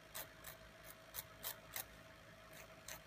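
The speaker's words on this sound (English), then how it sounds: "And I'm using the, Jamberry method of filing downwards." A nail file rasps against fingernail edges in short, evenly spaced downward strokes, about eight quiet scratchy swipes close to the listener.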